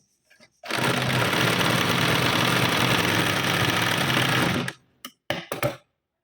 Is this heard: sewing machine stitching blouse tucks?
yes